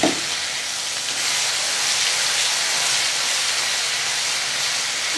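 Garlic frying in hot oil for a spicy garlic chutney gives a steady, dense sizzle and hiss that runs unbroken for the whole stretch, close and fairly loud, with no voices.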